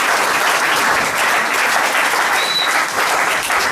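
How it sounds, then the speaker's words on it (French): A church congregation breaks into loud, dense applause, continuous clapping from many hands filling the space close and steady throughout. "Acclamons pour la gloire de Dieu."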